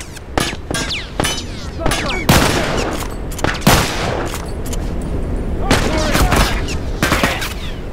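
Gunfire in The Last of Us Remastered, with loud close shots from a rifle and crossbow fired in irregular bursts, booming reports and echoes over game ambience, with someone talking partway through.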